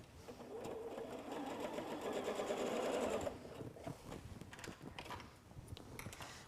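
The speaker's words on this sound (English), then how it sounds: "so let's just sew this half together" A sewing machine runs steadily, joining two halves of a tangled star quilt block with a continuous close mechanical whir, then stops and leaves quieter handling clicks and rustles.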